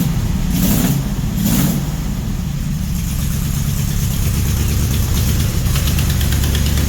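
A Mopar 400 big block V8, a hot rod engine built for a 1964 Dodge Polara 500, idles loud and close with a steady rumbling throb and a fan roaring over it, with no talking.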